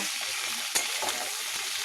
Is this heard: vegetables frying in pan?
yes